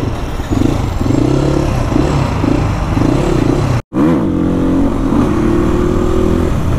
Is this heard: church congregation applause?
no